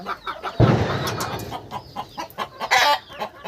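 A village chicken clucks in short uneven bursts nearby, with one louder squawk early on and quieter clucks after, no talk over it.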